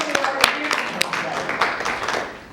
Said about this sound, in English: So please, give us a round of applause for Mary Wheat.